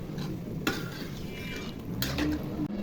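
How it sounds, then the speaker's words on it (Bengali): A fish curry is stirred in a pot with a few sharp utensil scrapes and clinks against the metal, close and fairly quiet over a low simmering hiss. "নেড়ে চেড়ে ঢেকে দিব।"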